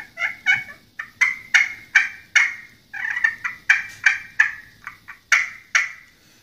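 A wild turkey gobbles repeatedly in a steady series of loud, rattling calls, close and clear with no talking.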